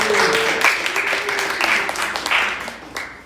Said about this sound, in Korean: 그 박수 하나 쳐줘야 될 것 같아요